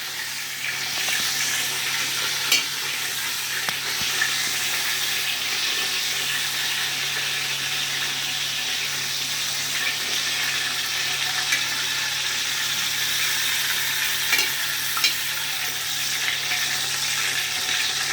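Chicken fries and sizzles in a pan, a steady loud crackling hiss with occasional pops and sputters that carries on evenly throughout, with no talking over it.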